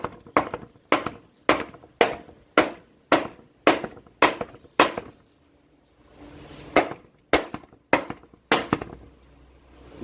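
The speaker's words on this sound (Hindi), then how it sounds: "ये देखो, तो ये हथौड़ी हैवी और हैवी टाइप का इसमें मार रहा हूँ मैं, तब जाके निशान पड़ रहा है।" Heavy hammer blows strike a cabinet surface to test it, about a dozen loud, sharp thuds in a steady rhythm, then a brief pause before several more strikes, close and alone without talk.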